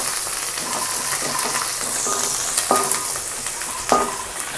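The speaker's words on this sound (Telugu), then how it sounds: "వేసుకొని ఇవి కూడా ఫ్రై అవ్వనివ్వండి" Mint and coriander leaves fry with chicken in a pan for biryani, giving a loud, continuous sizzle broken by scraping stirs and a few sharp clinks of a spoon against the pan.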